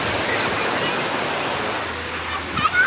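Afternoon seaside surf at a beach shore, a continuous broad wash of waves with a brief bump near the end.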